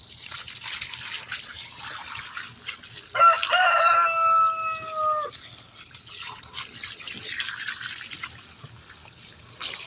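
Gutted redfish rinsed under running water, a steady wash of splashing behind a loud nearby rooster crowing partway through.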